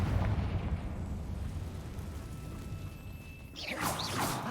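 A Confringo fire spell blast in the Hogwarts Legacy video game bursts loudly with a deep, rumbling boom that fades into a hiss, and a short whooshing effect follows near the end.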